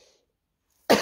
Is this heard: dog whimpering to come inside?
no